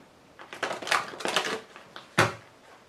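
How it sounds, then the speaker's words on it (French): A deck of tarot cards is shuffled up close: a quick papery flurry of riffling for about a second and a half, a short pause, then one sharp tap as the deck settles. "Alors on le fait encore une fois."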